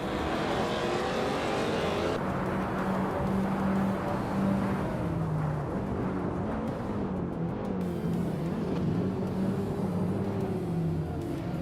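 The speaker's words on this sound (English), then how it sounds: "Wolf of Eco is driving a 26 Vauxhall Astra VXR." A 2026 Vauxhall Astra VXR race car engine roars steadily throughout a racing video game, a sustained loud drone with shifting pitch as it accelerates and changes gear, other cars' engines blending behind it.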